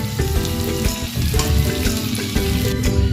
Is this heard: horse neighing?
no